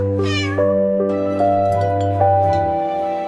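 A kitten meows several times, loud and close, over sustained musical notes that step up in pitch, with no speech.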